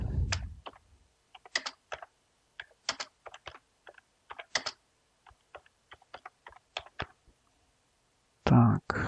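Quick bursts of computer keyboard typing, sharp separate clicks in short irregular runs with pauses between, close and clear in a quiet room, with a brief louder thump at the very end.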